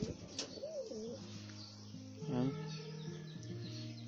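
Pigeons coo softly in low, throaty warbles, with a couple of brief calls over a steady background hum.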